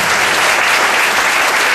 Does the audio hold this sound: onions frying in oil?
no